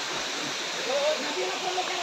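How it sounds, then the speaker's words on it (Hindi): A river running beside a series of four waterfalls in Sikidiri near Ranchi, Jharkhand, early in the rainy season, gives a steady broadband rush of water with a faint tonal whistle or voice briefly on top. "ये जो दिख रहा है ये नदी है।"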